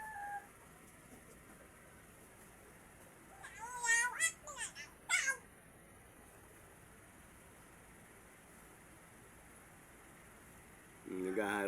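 A mother cat with three kittens gives a few short, faint meows in quick succession, followed by a brief louder sound at the end against a quiet background.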